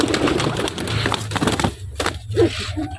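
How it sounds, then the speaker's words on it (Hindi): Pigeons coo in a rooftop loft setup in low, throaty bursts, with rustling and flapping-like crackles mixed in and a voice speaking nearby. "बड़ा कबूतर उड़ गया है"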